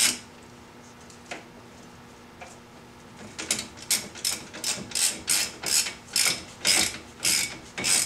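A ratchet tightening bolts that mount brake calipers to their adapters on a C4 Corvette brake upgrade: a few sparse clicks, then a steady run of close, sharp ratcheting bursts in regular rhythm.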